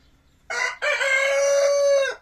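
An ornamental rooster on a free-range chicken farm lets out a single loud, close crow, a short opening note followed by a long drawn-out call.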